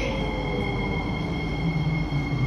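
An SMRT Kawasaki Heavy Industries CSR Qingdao Sifang C151B metro train at an underground Singapore MRT station gives a steady, loud mechanical hum and rumble with a high electric whine throughout.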